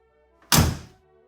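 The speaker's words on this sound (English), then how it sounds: "doors latching," The door of a 1973 VW Super Beetle convertible latches shut with a single solid, close thunk that decays quickly into quiet.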